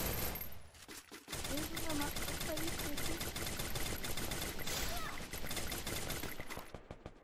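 Rapid gunfire from the Free Fire video game, with quick bursts of automatic shots running through most of the stretch while players talk over the fighting.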